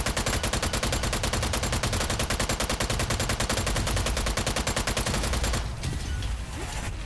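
Rapid automatic gunfire in the Strange Brigade video game rattles out in a fast, even stream of loud, close shots for several seconds, then cuts off, leaving quieter scattered game noise.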